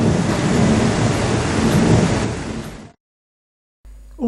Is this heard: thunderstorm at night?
yes